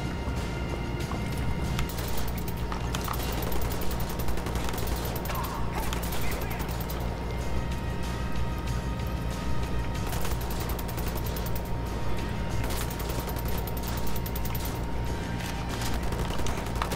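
Dense, steady gunfire from captured enemy weapons in the shooter game Wolfenstein: The New Order, with rapid bursts layered over a constant mechanical background din throughout.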